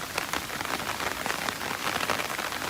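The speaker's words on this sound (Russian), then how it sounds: "запишу без звука для вас, чтобы вы прочувствовали атмосферу дождя" Heavy rain pouring in a Tokyo street, a dense, steady hiss of drops hitting surfaces throughout, close and continuous with no voices.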